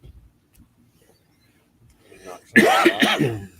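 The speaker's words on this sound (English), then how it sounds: "slight cough. I think that's the first time I cough." After near silence, a single harsh cough bursts out close by, followed by a brief rough throat-clearing sound.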